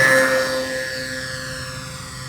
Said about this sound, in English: This is a quick takeoff.